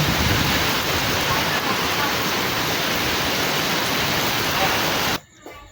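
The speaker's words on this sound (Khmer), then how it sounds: "មើលមេឃភ្លៀងកាន់តែខ្លាំង" A steady, roaring wash of heavy rain fills the air without pause, then cuts off abruptly near the end.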